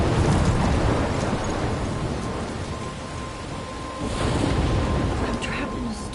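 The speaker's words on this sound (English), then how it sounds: "I'm trapped in a storm?" Heavy storm in the game Life is Strange, with steady roaring rain and low rumbling thunder, loud and continuous, swelling again toward the end.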